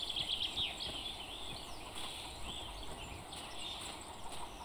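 Fowl clucking and calling in an open-world survival game, several faint bird calls over a steady outdoor ambience with no talking.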